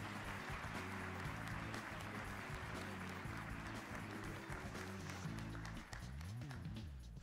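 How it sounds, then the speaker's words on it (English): Audience applause welcoming Senator Rand Paul at a National Urban League conference in Cincinnati: steady, dense crowd clapping that fills the whole stretch, with music or crowd noise underneath. "Please give him a warm round of applause."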